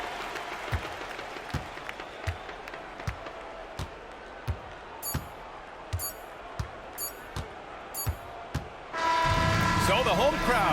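In the NBA 2K24 basketball video game, steady ball bounces thump on the court before a home crowd breaks into loud, sustained cheering near the end.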